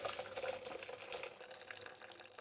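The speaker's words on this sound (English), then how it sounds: "You see how the water starts to drain?" Water drains from a cooking pot through folded cheesecloth, a steady broadband splashing and trickling that stays fairly loud and even throughout, with no talking.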